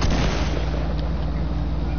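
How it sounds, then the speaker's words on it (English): Steady, loud video game gunfire striking a player's built structure, a continuous rattling barrage of impacts with no break across the whole stretch. "Stop shooting my structure."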